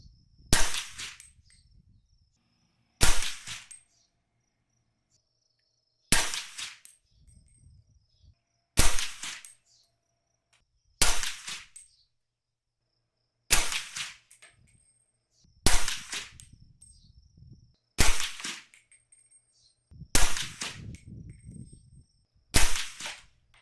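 Ten sharp rifle shots from an 8.6 Blackout firing Fort Scott supersonic ammo, each loud crack spaced roughly two to three seconds apart, ringing briefly before dying into quiet outdoor stillness.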